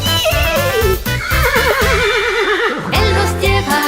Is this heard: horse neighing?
yes